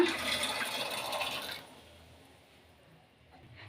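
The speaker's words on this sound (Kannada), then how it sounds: "ಈಗ ಒಲೆ ಮೇಲೆ ನೀರು ಬಾಯ್ಲ್ ಆಗ್ತಿದೆ ಅದಕ್ಕೆ ಬಟಾಣಿ ಹಾಕ್ಕೊಳ್ಳೋಣ" Green peas tipped into water boiling on a stove for masala puri give a steady, loud hiss and splash for about a second and a half, then drop to a faint simmer.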